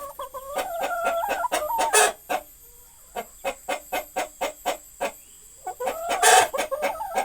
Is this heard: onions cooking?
no